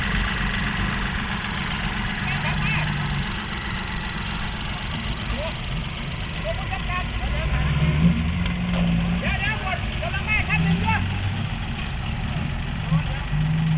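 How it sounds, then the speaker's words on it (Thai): A low, rumbling tractor engine chugs steadily throughout, growing slightly louder as it approaches, with voices talking over it. "รถไถคันหนึ่งกำลังมาครับ"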